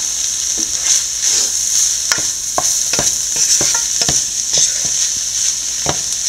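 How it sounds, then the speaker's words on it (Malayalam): Curry leaves land in sliced onions frying in a pan for onion thoran, giving a bright, steady sizzle up close. Sharp spoon-against-pan scrapes and clicks punctuate it at irregular intervals. "അതിന് മുന്നായിട്ട് നമുക്ക് കുറച്ച് കറിവേപ്പില ഇട്ട് കൊടുക്കാം"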